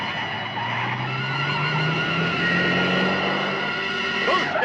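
A car in an alley in the 1975 film Farewell My Lovely, a loud, close engine with rising tire squeal and skidding that holds steady for several seconds.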